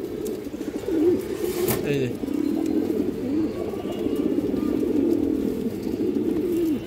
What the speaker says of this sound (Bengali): একটা সিলভার বেজি নর কবুতর,